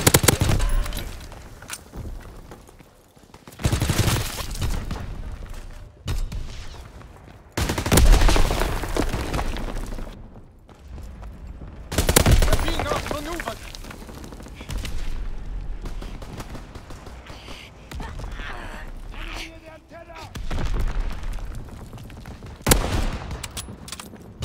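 Repeated bursts of gunfire and heavy battlefield blasts in the World War II shooter Call of Duty: WWII multiplayer, loud volleys separated by brief lulls, with occasional explosions.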